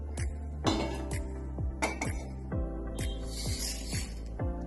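Rice and dal go into a cooking vessel with rattling, clinking metal knocks and the brief patter of grains, close and busy, a series of irregular hits without speech.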